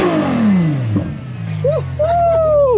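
A Ferrari F12 TDF engine revs loudly and winds down in pitch, then people exclaim over the lower engine hum.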